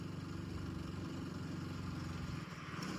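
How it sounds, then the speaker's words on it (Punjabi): A motorcycle engine drones steadily and heavily at low pitch while climbing uphill, sounding labored and continuous, with no voices. "ਤੁਸੀਂ ਆਵਾਜ਼ ਸੁਣ ਸਕਦੇ ਹੋ ਮੋਟਰਸਾਈਕਲ ਦੀ"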